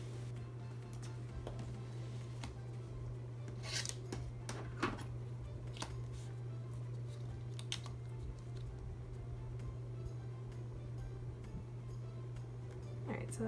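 Scissors snip through a page of a paper planner, cut in half with light pressure: a few faint, crisp clicks and cuts over a steady low hum.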